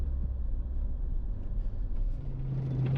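A car drives along unsealed forest roads, a low steady engine rumble and tyre noise heard from inside the cabin, with a slight rise in engine pitch toward the end and no one speaking.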